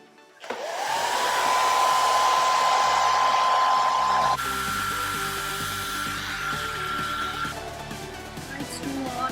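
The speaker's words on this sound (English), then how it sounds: "Let's see if we can get an eyelash lift with the hair dryer." A hair dryer switched on and blowing steadily at close range, aimed at mascara-coated eyelashes for an eyelash-lift beauty hack, with a loud continuous whine that shifts pitch partway through as the setting changes.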